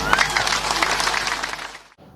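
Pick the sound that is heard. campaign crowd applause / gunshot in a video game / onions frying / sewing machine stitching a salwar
campaign crowd applause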